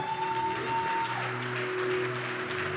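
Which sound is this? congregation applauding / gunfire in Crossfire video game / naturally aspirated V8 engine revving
congregation applauding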